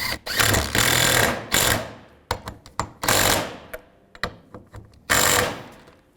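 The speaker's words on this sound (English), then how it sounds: "put the bolts in, get them all started, and tighten the bolts down" A power tool drives in and tightens the bolts on a radiator cooling fan clutch of a 2005-2015 Nissan Xterra. Loud buzzing bursts alternate with sharp clicks and short gaps, close by and with no voices.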